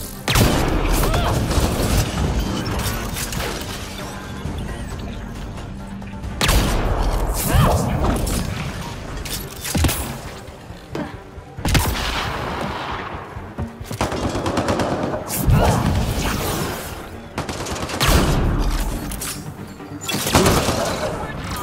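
Video game gunfire, with rapid machine-gun bursts, single shots and booming blasts coming in loud, uneven volleys and pauses, while voices talk in between.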